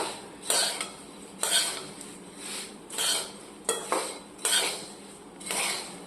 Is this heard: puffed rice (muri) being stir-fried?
yes